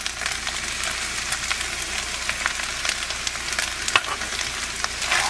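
Egg fried rice sizzles loudly in a hot pan as soy sauce goes in, a steady close frying hiss with scattered crackles and stirring scrapes, and no voices.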